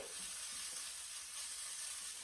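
French onion sliders sizzle steadily as they brown in a pan, a continuous even hiss of frying with no talk.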